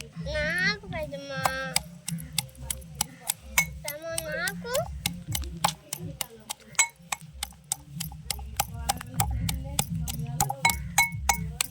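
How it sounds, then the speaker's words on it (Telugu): Kondapindi leaves are pounded with a pestle, producing a steady run of sharp, evenly spaced knocks with a faint clink. Voices, including a child's, talk near the start. "అలా దంచుకోవాలా"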